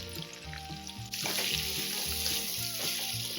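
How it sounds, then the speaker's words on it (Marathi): Water from a glass splashes into a pan of spiced raw mango curry, starting as a steady close pour over faint background music. "आता आपण जवळजवळ अर्धा ग्लास पाणी घालून घेऊ."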